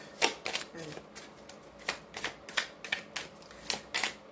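Tarot cards are shuffled for a reading in a quiet room, giving about a dozen quick, crisp riffling bursts in a loose, irregular rhythm.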